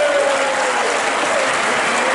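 Steady applause fills a festival tent after the first throw at a beet-throwing contest, dense and loud from start to finish, with a faint voice briefly audible early on.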